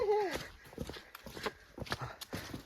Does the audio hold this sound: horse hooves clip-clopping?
yes